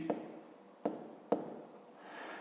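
A pen scratches on paper in three short, faint strokes close by during a Ukrainian fifth-grade math exercise, with no talking.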